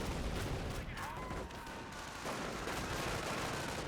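Stormtroopers firing StG assault rifles in Company of Heroes, a dense, steady crackle of battlefield gunfire running throughout with overlapping shots and no clear pauses.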